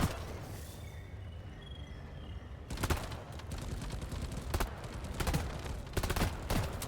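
Gunfire in the Deep Rock Galactic video game: rapid bursts of shots begin after a quiet stretch and repeat in clusters, loud and close, with brief gaps between volleys.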